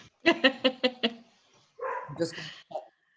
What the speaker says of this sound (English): My dogs are barking at each other.